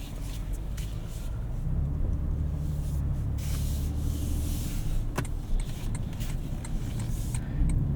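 A 2025 Toyota Tundra TRD Rally pickup cruising on the road, with a steady low engine and tyre rumble and broadband road and wind noise running continuously from inside the cab.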